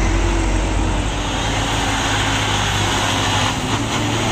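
A Hino-cabbed truck engine labours up a steep road, a loud, steady, broadband drone that holds throughout with no talk.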